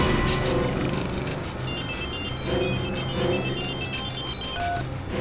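A telephone rings in repeated trilling bursts during a tense crime-investigation scene, fairly loud over a steady low background, with no talking.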